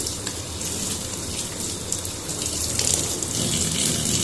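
Groceries washed with soap under a running tap, steady close water hiss and splatter continuing without a break, no talking.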